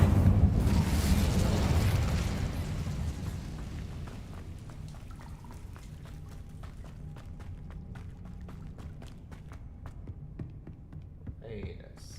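The Incendio fire spell in Hogwarts Legacy erupts as a loud fiery whoosh and burst that slowly fades into crackling, with sparse small pops and ticks continuing after the blast.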